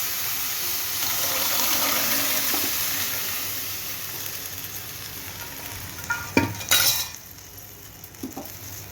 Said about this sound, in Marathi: हे उकडलेले चणे आहेत ना ते आपण ओतून घ्यायचं